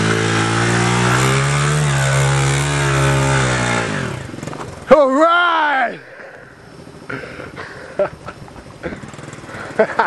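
A Honda CRF70 dirt bike revs on a steep mountain climb, its engine loud and close with a sustained rising and falling drone, then a sharp rev burst before it cuts out, with people talking nearby.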